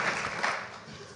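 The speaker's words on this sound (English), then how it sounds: "A round of applause, please, for Jane" Short spell of steady audience applause at a national housing hustings event, dense and moderately loud, continuing evenly before tapering slightly.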